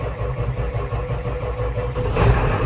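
A cold 7.3 Powerstroke diesel in a Bronco turns over and catches, a low rumbling crank building into a rough idle up close, louder in the final moments.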